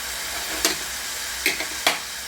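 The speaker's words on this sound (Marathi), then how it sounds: "कांदा थोडा भाजून घ्यायचा" Onion pieces frying in a pan for a raw mango and tomato chutney, giving a low steady sizzle with three brief louder crackling bursts, no talking.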